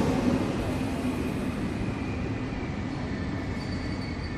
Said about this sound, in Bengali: চার ঘন্টার ট্রেন সফর সেরে স্টেশনে এসে পৌঁছয়